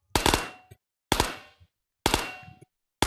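Bursts of automatic gunfire from a Luty submachine gun emptying single-stack magazines, four sharp rapid strings each lasting about half a second, loud and close with brief gaps between them.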